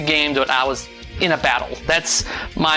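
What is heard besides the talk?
No everyday noise stands out behind the speech.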